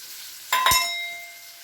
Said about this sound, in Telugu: కొద్దిగా ఆయిల్ వేసుకొని ఉల్లిపాయ ముక్కలు వేయించుకుందాం